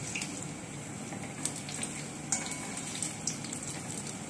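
Palm fritters (tal bora) fry in hot oil just after being flipped, giving a steady, soft sizzle with a few small pops and crackles throughout.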